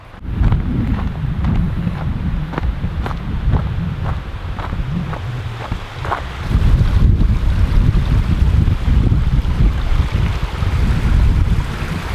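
Steady wind rushes and roars continuously through trees in the Swiss National Park, with gusty low rumble, a river below and occasional faint ticks; no voices.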